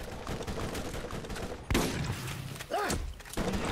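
Submachine gun fire in the video game Borderlands, a dense rattling burst of shots over a busy mix of game sound, loud and continuous with a few heavier thumps.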